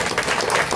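Audience clapping at a spiritual gathering, a dense, steady wash of many hands throughout, with no voices over it.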